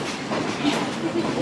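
A Whitewater Valley Railroad passenger train rolls along, a steady low rumble of wheels and carriage noise heard from inside the car at moderate level, with faint voices nearby.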